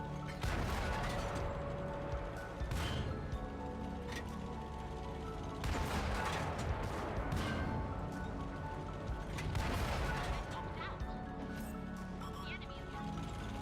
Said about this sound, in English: This should also give you an idea of the rapid rate of fire that the Wojtek has.